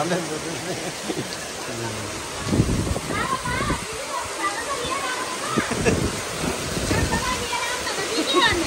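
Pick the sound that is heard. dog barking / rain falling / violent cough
rain falling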